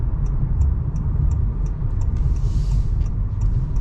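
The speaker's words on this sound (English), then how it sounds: "you can enable sport mode and drive more aggressively, which is what we're doing now." A 2018 Honda Clarity plug-in hybrid driven hard in sport mode, heard from inside as a steady, loud low rumble of road and drivetrain noise with a faint regular ticking running throughout.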